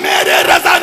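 A crowd at a religious gathering shouts back in unison after a Takbir slogan call, a brief, loud, close burst of many voices.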